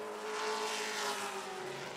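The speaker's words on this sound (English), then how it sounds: "Distributed Wire Cable Company car, making his trip up to Berlin." Race car lapping an oval track at Berlin Raceway during qualifying, a steady loud engine whine that swells and eases as it passes, heard alone.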